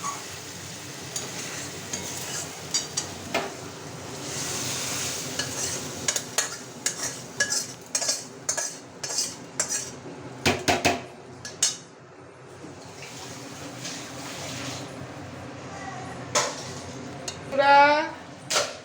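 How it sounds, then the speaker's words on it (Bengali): Spice mix gets stirred into mutton mince khichuri in a pot, heard as repeated close scraping and clanking strokes of a spoon against metal, alongside low sizzling, with pauses between bursts and a voice talking at points. "মশলাটা এবার আমি খিচুড়িতে মিশিয়ে দেবো।"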